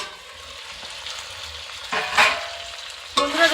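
Chicken rezala fries in a pan and sizzles steadily while a spoon stirs it, with a few louder scraping bursts and hisses near the end and no talk.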